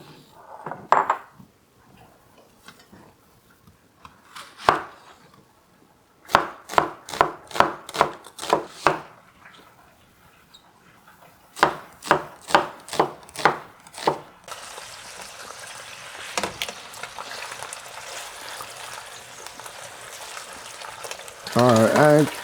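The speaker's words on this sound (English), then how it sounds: "Let's go and just slice the onion." A knife slices an onion on a board in bursts of sharp, evenly spaced taps with pauses between them, followed by a steady hiss of frying, close by.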